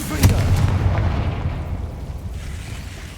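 A Confringo blasting spell cast in Hogwarts Legacy, bursting out as a loud, close booming explosion with a sharp onset that rumbles and fades over a few seconds.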